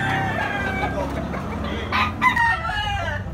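A big yellow-legged rooster at a gamefowl sale crows loud and close, its long call rising and falling across the clip, with clucks from other fowl and a crowded farmyard din underneath.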